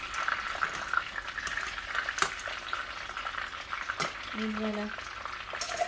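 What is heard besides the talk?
frying stuffed bell peppers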